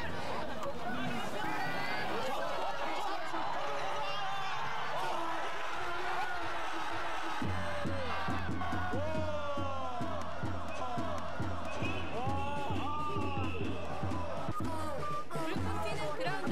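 Crowd at a Korean football match cheering from the stands, with loud rhythmic chanting and clapping that swells midway, a steady roar of voices throughout and a commentator talking over it.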